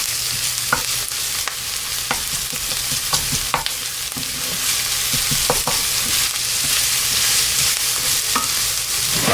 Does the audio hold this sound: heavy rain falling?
no